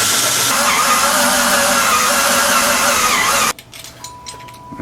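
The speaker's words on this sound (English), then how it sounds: "I don't want to drill any more than I absolutely have to" A drill grinds through a hole in a homemade studio light for about three and a half seconds in a loud, steady, close whine, then cuts off to quiet handling noise and a faint hum.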